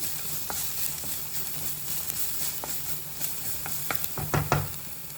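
Green chillies sizzle in a pan for a ginger chickpea curry, a faint steady frying hiss broken by scattered stirring clicks and scrapes, louder near the end.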